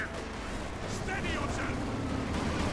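Battle noise from the World War II strategy game Company of Heroes 2 rumbles with scattered gunfire and distant explosions, a continuous low din under a commentator's voice.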